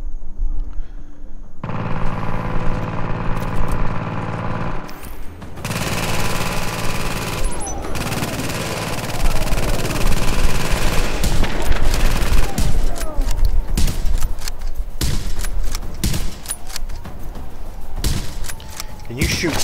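Heavy, constant video-game gunfire rattles and booms throughout, dense overlapping bursts with someone talking over them.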